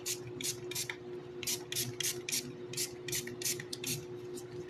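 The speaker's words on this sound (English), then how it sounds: "So I'm going to spray some alcohol, quite a bit actually." Repeated short hissing bursts of a pump spray bottle spraying alcohol onto resin, about a dozen quick squirts in an uneven rhythm over a steady low hum.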